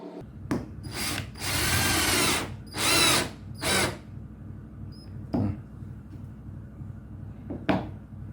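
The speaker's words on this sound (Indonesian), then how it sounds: "lumayan ya alat ini untuk masang skrup-skrup di kayu" A cheap cordless electric screwdriver drives screws into wood in several whirring bursts of a second or so each, with clicks and handling knocks between them, close and loud with no talk.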